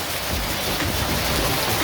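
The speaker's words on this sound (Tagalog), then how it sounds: "madidinig nyo yung sound ng ulan" Steady, dense hiss of heavy rain pouring down in the Philippines, a constant wash of noise with no pauses.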